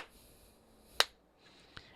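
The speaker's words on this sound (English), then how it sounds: "If you don't have a clapboard, just clap your hands." Two sharp hand claps made to sync audio and video, a crisp loud clap followed by a fainter second one less than a second later, in a quiet room.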